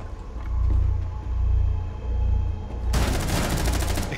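Gunfire in Rainbow Six Siege during a hostage match, heard as rolling bursts of shots over a low rumble, growing sharper and louder near the end with no talking.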